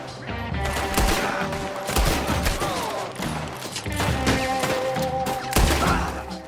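Dense gunfire in the video game Red Dead Redemption 2, rapid overlapping shots and bursts in a loud, sustained fusillade with sharp cracks and echoing tails across the whole stretch.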